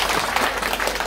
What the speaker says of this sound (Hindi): रमानु साहब के लिए एक बार जोर से ताली।